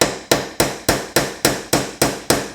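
A RoverTac multi tool axe used as a hammer drives a small nail with nine sharp, evenly spaced strikes, each a loud close metallic crack with a quick decay, steady and unhurried.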